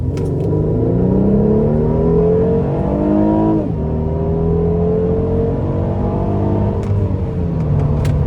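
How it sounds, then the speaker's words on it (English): A 2014 Mercedes-Benz SLK 350 convertible accelerates hard at full throttle, its engine note rising steadily in pitch through the gear, briefly dipping at a shift, then climbing again, loud and close from the cabin without talk. "then I'm gonna put my foot to the floor"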